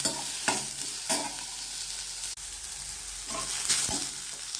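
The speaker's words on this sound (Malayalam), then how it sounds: "എണ്ണയിട്ട് ഉള്ളിയും പച്ചമുളകും വഴറ്റി കൊടുക്കാം" Onion and green chili sautéing in oil, with a dense, continuous sizzle broken by repeated stirring scrapes at an even pace, close and fairly loud with no talking.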